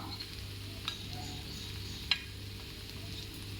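Half-cooked plantain fries quietly on a dosa griddle, a faint steady sizzle over a low hum, with a couple of sharp clicks of a utensil against the pan.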